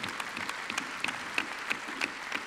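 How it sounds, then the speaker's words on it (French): An audience claps for a witness's testimony at a roundtable on reinventing city centres during a 2017 general assembly, a steady patter of hands at moderate distance with a few sharper close claps. "On vous applaudit pour ce témoignage."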